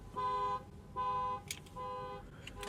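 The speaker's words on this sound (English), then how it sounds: "someone set their car alarm off" A car alarm sounds outdoors, giving three sustained electronic tone bursts with short gaps between them, each at moderate level and somewhat distant, with brief background noises in the pauses.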